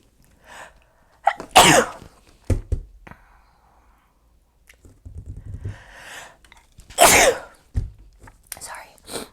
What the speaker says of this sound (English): I almost feel like I have to sneeze yet again.